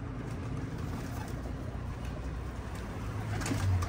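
Pigeons coo inside a loft, low soft cooing over a steady background hum, the calls growing a little louder and closer toward the end.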